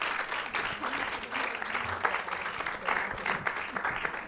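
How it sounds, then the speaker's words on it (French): An audience at a film screening applauds steadily, a dense wash of many hands clapping at moderate distance, sustained throughout with no clear break. "On l'applaudit."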